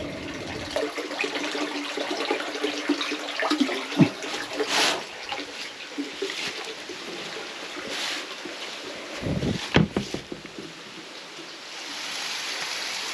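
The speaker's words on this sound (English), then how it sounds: "Spring house overflow. Disappearing underground again." Overflow water from a farm spring house flows and gurgles as it disappears underground, a steady rushing wash with a few sharper splashes and knocks, heard outdoors without speech.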